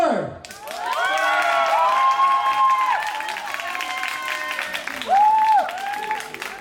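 Excited high-pitched cheering and whooping from the bride's friends at a small June wedding, a loud close group of voices rising and falling with a fresh burst near the end.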